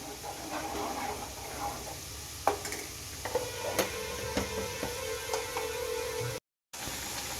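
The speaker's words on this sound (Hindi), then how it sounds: "तो ये फिंगर की चटनी में बहुत अच्छे से खौल आने लगी है।" Thick finger chutney boiling in a pot, seasoned with white and black salt: soft, irregular pops and ticks over a steady low hiss, close by, with a brief dropout near the end and no speech.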